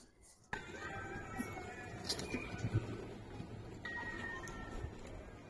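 Giribaz pigeons coo in low, quiet bursts inside a loft, with a few faint clicks and a thin steady whine over the background.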